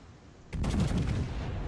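Main guns of the battleship Bismarck in World of Warships fire a single heavy salvo, a sudden loud boom with a rumbling tail after a quiet moment.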